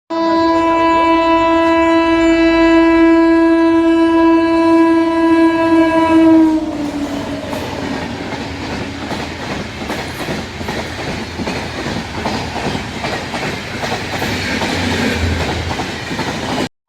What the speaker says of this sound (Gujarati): એ ટ્રેન હમણાં અહીંયા આવશે એટલે એ તમને દેખાડું આગળ